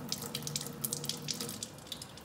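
Water streaming from the outlet of a Kangen water ionizer after passing through its pre-filter, a soft continuous trickle and splash like a running tap, quiet and close with no talk.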